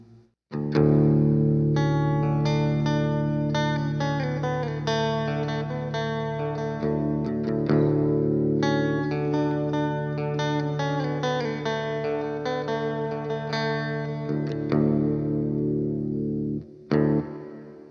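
Electric guitar played through a Boss reverb pedal, sustained chords and notes ringing out with a washy tail, with no voices.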